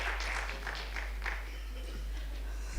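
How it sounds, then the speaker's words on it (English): An audience at a conference on using AI against fraud and counterfeiting in retail applauds to welcome the chief guest, a steady wash of clapping heard from a distance and fairly faint beneath a low hum. "With a big round of applause, let us welcome our chief guest."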